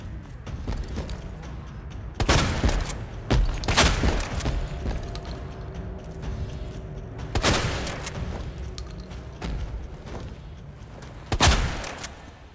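In Resident Evil 2, shots are fired at Mr. X in loud, separate bursts with a few seconds between them, each a sharp close bang, over a low rumbling game background with no speech.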